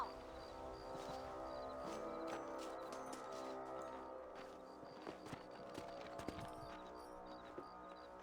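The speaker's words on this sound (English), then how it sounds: "Let's get back on the horses and see what else is going on." Horse hooves clip-clop steadily over ground in Red Dead Redemption 2, a continuous rhythmic gait under a dense bed of game music and ambience, moderately loud throughout.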